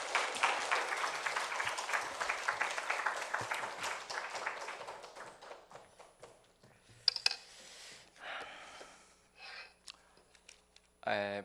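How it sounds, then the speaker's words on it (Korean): A church congregation claps to welcome a missionary, a thick wash of applause that fades out over several seconds, followed by scattered rustles, small knocks and brief murmurs in a quiet hall. "우리 박수로 환영하겠습니다."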